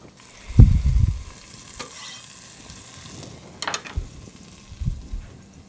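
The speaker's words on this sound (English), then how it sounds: "So you can hear the sizzle of the frying pan" Soft peppers being stirred in a frying pan for chili crackle and sizzle close by, with a few bursts of scraping and stirring over a steady hiss, and no talking.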